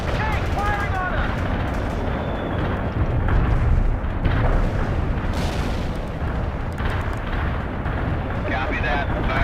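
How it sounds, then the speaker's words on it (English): Dense, booming artillery explosions rumble continuously in the World in Conflict video game, a loud low-end barrage punctuated by heavier blasts, with radio-style voices talking over the battle. "A perfect artillery hit."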